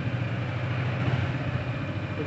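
A 2021 Yamaha Xmax 250 ABS automatic scooter idles steadily and close by, giving a continuous low engine rumble with no talk over it.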